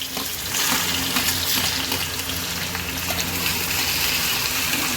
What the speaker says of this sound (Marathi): कांदा असा छानसा परतून घेऊया. आपला कांदा हा असा छानसा परतत आहे.